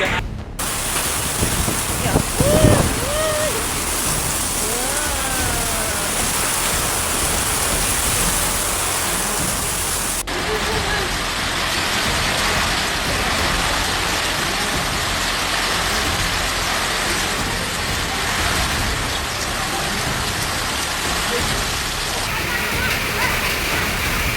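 Heavy rain driven by strong storm winds lashes down during a tornado-like squall in Bekasi, a dense, steady roar of downpour and gusts filling the whole stretch, with a brief voice near the start.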